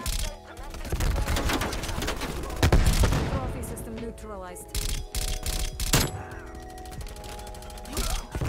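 CARV.2 rifle fire in Call of Duty Black Ops Cold War, rapid bursts of loud close gunshots in several volleys separated by short pauses, with other game sounds around them.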